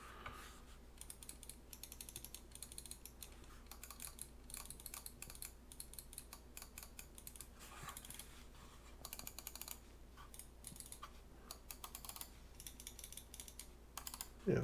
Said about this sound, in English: a lot of feedback when you click them.